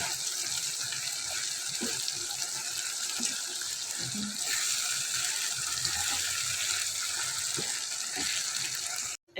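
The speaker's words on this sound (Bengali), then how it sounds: "এখন আমি পরিমাণ মতো পানি দিয়ে দেবো সেদ্ধ হওয়ার জন্য" Water pouring into a cooking pot of quail, a steady close gushing splash that runs for several seconds and then stops abruptly.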